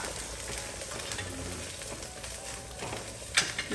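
Dried red chillies fry in hot oil for kootu curry, a soft continuous sizzle with light stirring and a small clink near the end, close but fairly quiet.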